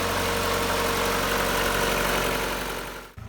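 A 1991 Mazda Miata Special Edition idles nearby with a steady, dense engine rumble that cuts off abruptly near the end.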